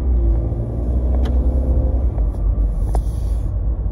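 A 2018 Ford Mustang EcoBoost convertible pulls away with the top down, a steady low engine rumble and road noise close and loud throughout, no voices.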